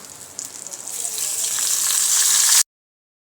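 Curry leaves hit hot oil and a bright sizzle swells steadily louder for a couple of seconds, then cuts off abruptly.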